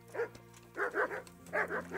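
Several short barks and yips from dogs nearby in the video game Kingdom Come: Deliverance, coming in quick bursts with brief pauses between.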